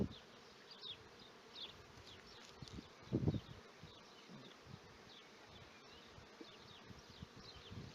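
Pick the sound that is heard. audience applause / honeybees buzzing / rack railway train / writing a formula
honeybees buzzing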